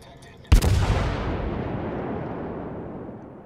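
A single heavy warship artillery salvo from World of Warships booms sharply, then rolls into a long, slowly fading rumble, loud and close with nothing else over it.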